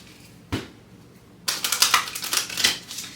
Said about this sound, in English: let's get one final shuffle